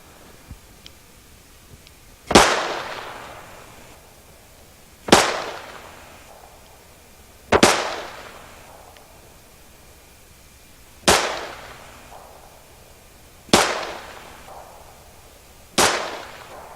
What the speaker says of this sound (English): Let's take a look at a short-barreled revolver. This is a very accurate revolver. Let me show you.